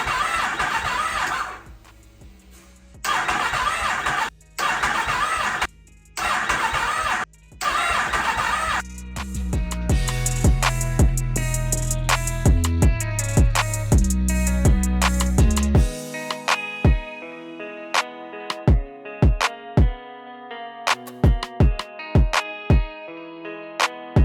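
A rebuilt, previously wrecked 2020 Yamaha MT-10 motorcycle is cranked several times in short bursts, then catches and runs with a loud, steady, close engine note that ends in a series of sharp, separate clicks or pops.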